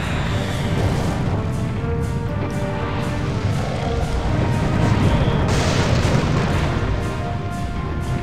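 Continuous heavy booming and crashing cannon blasts in the game Serious Sam HD: The Second Encounter, loud and dense, like rapid artillery fire rolling on without pause.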